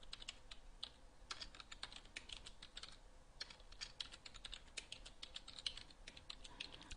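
Steady typing on a computer keyboard while entering a PL/SQL statement, quiet close key clicks in an irregular rhythm with no voices.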